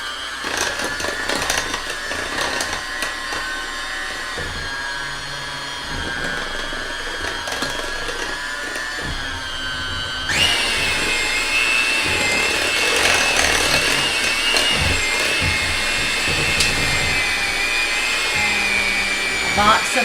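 Electric mixer beating lemon cake batter close by, a steady whining motor hum that jumps higher in pitch and louder partway through, with some clatter against the bowl.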